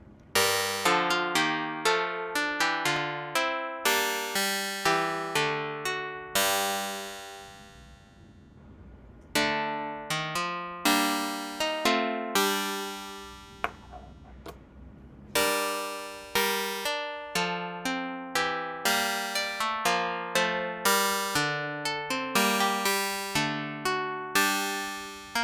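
Computer-generated music in the style of Ockeghem's Renaissance polyphony, a steady sequence of clear, plucked-sounding synthetic tones moving in rhythmic note patterns, with a brief pause near the middle, played alone.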